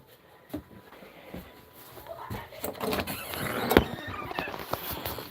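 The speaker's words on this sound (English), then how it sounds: "I really need to oil that door, huh?" A door creaks and squeals on a hinge badly in need of oil, a brief grinding squeak rising near the middle, heard close up over a quiet indoor background.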